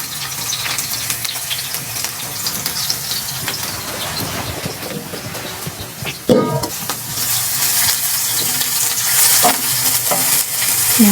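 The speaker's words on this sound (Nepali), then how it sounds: "हेर्नुस्, यो प्याज अब रातो हुन्छ म भुट्छु" Chopped onions fry in hot oil in a pan, a steady sizzle with stirring scrapes and a sharp clatter midway before the frying grows louder and brighter.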